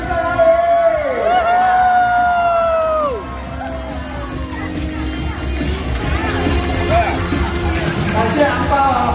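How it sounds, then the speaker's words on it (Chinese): Audience at a TV variety show screaming and shouting in high pitched wails, loud and sustained, with cheering and scattered applause continuing underneath as the screams fade into general crowd noise. "尖叫声，掌声在哪"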